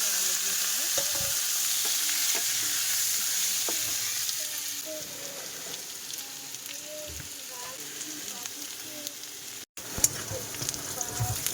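Onion, garlic and ginger sizzle steadily in a pan while being stirred, a continuous frying hiss with occasional scrapes, one brief dropout near the end.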